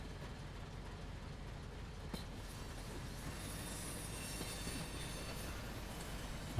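An American train in Train Simulator Pro USA rolls along steadily, a continuous low rumble of wheels on rails with faint metallic squeals, running alone without talk.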